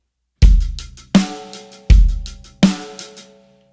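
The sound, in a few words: drum kit beat, kick on 1 and 3, snare on 2 and 4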